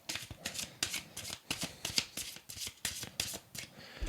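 Oracle cards are shuffled for a five-card spread, with a quiet, close run of rapid riffling flicks and taps in an uneven rhythm and no talk.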